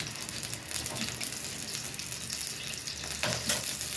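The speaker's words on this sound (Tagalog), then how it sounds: "Lagyan na natin guys ang mantika sa mainit na kawali." Hot cooking oil sizzles and crackles steadily in a hot pan, a dense continuous frying hiss close up with a brief louder swell near the end, no talking.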